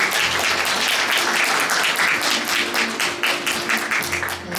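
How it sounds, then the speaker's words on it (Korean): Wedding guests at a Korean ceremony clap in a full, continuous burst, close and lively throughout, easing slightly near the end. "다시 한번 박수 부탁드립니다"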